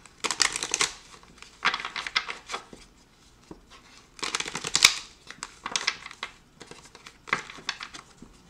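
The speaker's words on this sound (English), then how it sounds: "I'm going to just shuffle and we're going to get a few cards" Tarot cards are shuffled in several bursts of crisp riffling and slapping, separated by brief quiet pauses, close to the microphone.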